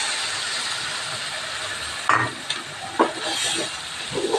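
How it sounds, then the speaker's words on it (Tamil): Steady hissing sizzle of tomato paste frying in oil for okra curry, with a few clinks and stirring scrapes of a utensil against the pan. "இப்போ தக்காளி போட்டு நல்லா அதுலேயும் எண்ணெய் பிரிஞ்சு வர்ற வரைக்கும் நல்லா வதக்கி விட்டுடலாம்."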